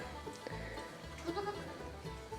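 A goat bleats loudly a few times in short wavering calls, with low rumbling background noise throughout.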